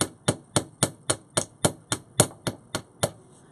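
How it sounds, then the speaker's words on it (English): A chasing hammer strikes wire to forge the top loop of an earring, about twelve crisp, evenly spaced metallic taps heard close up and alone. "hammering that top loop"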